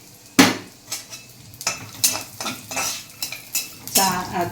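Raisins tossed and stirred in a pan for bread halwa, with a string of sharp metallic scrapes and clinks from a spoon against the pan, repeating every half second or so, close and fairly loud, with no sizzle standing out.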